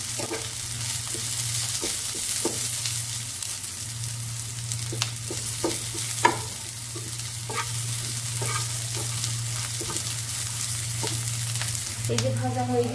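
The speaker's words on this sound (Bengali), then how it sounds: "পেঁয়াজ দিয়ে একটু ভেজে নিচ্ছি।" Onions fry in hot oil in a pan with a steady, close sizzle, broken by occasional scrapes and taps of a stirring spoon, with no talking.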